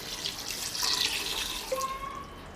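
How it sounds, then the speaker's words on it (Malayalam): Water is poured into a pressure cooker of pork curry, a faint, steady splashing trickle running for a couple of seconds with no voices. "ഇനി ഇത് വേവാൻ ആവശ്യത്തിനുള്ള കുറച്ച് വെള്ളം ഒഴിച്ചു കൊടുക്കാം."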